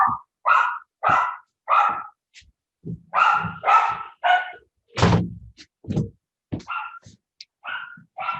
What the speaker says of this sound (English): There goes my puppies.